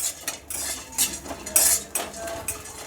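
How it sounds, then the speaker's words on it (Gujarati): Pumpkin seeds are tossed and roasted in ghee in a pan, with a metal spoon scraping and clinking loudly against the pan in several close, sharp strokes. "આ બધા સીડ શેકી લઈશું આપણે પમ્પકિન સીડ થોડા મોટા હોય એટલે એને પહેલાં નાખીશું"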